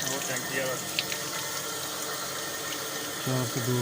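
Fresh water gushes steadily from a 60-foot village bore, a continuous loud rushing flow with people talking nearby.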